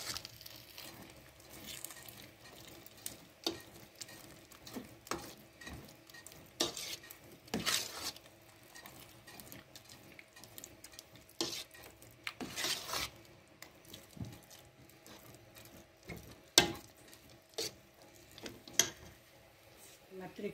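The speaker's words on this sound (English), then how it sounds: "So now I'll stir my semolina." Semolina stirred in a pan for sweet soji, a spoon scraping and swishing in irregular strokes with faint sizzling and occasional clinks of utensil against the pan, fairly quiet and close, with no talk.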